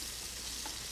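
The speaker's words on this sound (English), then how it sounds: "While we're browning the onions, we want to cut this steak into little bitty cubes" Onions browning in a pan, a steady soft sizzle and crackle of frying that continues evenly for a brief moment, close and on its own.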